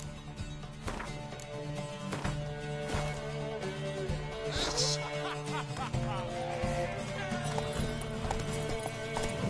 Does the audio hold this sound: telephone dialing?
no